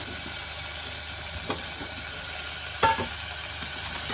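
Chopped onion, tomato and green chili sauté in a pan while a spoon stirs them. A soft, steady sizzle runs throughout, broken by a couple of light utensil knocks against the pan.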